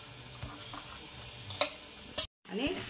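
Toor dal is stirred into softened, frying spring onion greens in a pan: a steady sizzle under close scraping stir strokes, one brief dropout, no talking.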